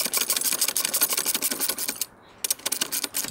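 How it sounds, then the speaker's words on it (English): Rapid, steady clicking of a ratchet tightening a half-inch bolt while assembling a Granberg Alaskan MKIII chainsaw mill, close and continuous with a brief pause near the end before resuming. "it's a little quicker with a ratchet"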